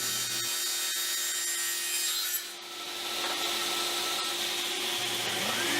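A saw cutting a 45-degree mitre along a length of 3/4 inch plywood: a steady, bright, whining rasp that holds at a fairly even level, dipping briefly midway, with no talking.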